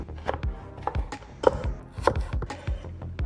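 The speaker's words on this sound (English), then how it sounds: "finally dicing a 1/4 cup of carrot" A knife dices a carrot on a cutting board, giving a quick, irregular series of crisp taps and chops, close and fairly quiet, with no talking.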